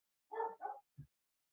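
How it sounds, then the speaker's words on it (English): Dogs bark in the background, two quick faint barks followed by a short low yip, distant and otherwise quiet. "dogs are barking in the background."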